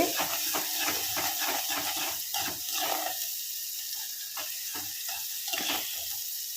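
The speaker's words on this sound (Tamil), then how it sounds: "ஸோ வெங்காயம் தக்காளி நல்லா வதங்கிடுச்சிங்க" Onion and tomato sautéing in a pan with rock salt over medium flame, a soft steady sizzle with quick scraping stir strokes in the first half, then quieter frying with occasional taps.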